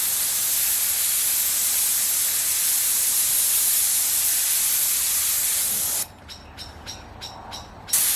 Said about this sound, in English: I pull my airbrush back